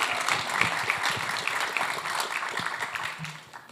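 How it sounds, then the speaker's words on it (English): An audience at a panel on music licensing in gaming applauds in a steady round of dense clapping that fills the room and then tapers off near the end, with no voices over it. "So if I can get a round of applause for both of them"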